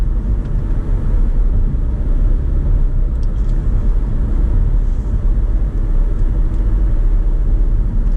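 A car drives on the Lodge Freeway in Detroit, a steady low road rumble and engine drone running unbroken from start to finish, close and loud with no talking.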